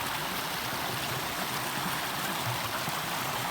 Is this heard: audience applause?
no